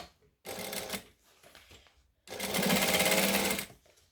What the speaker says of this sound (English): And then I'm going to top stitch that as well.